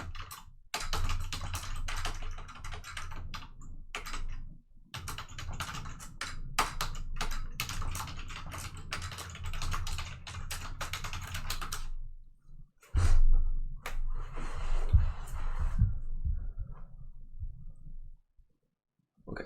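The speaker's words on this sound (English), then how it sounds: "So I'll go ahead and type that out as well." Close keystrokes patter on a computer keyboard in quick irregular bursts, with a few brief pauses and a short stop near the end, no talk over them.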